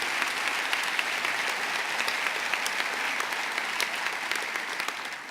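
Audience applause at a government event with New York Governor Cuomo, a sustained wash of many hands clapping, steady and fairly far off, with no talk over it.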